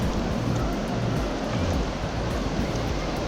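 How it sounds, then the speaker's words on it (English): Rough surf washes onto a beach as a steady, loud broadband roar of breaking waves with wind, with no voices. "It's been really rough surf lately."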